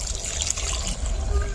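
Water pours and splashes steadily onto coconut being washed, a continuous close trickling wash with faint hiss throughout.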